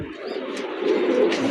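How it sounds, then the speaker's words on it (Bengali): Lakha pigeons brooding eggs on a pigeon farm coo in a steady low rolling murmur, close and unbroken, with no speech. "লাক্ষা কবুতর আছে ডিমে"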